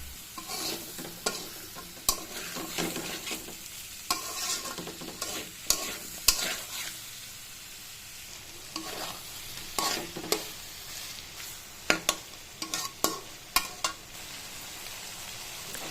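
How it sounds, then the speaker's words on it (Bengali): Chicken pieces and tomatoes are stirred in a cooking pan for a restaurant-style chicken chaap, with a spoon scraping in irregular clustered strokes over a steady close sizzle, with no talking. "তারপর নেড়ে চেড়ে আবার কিছুক্ষণ টমেটোগুলো সিদ্ধ করে নিব"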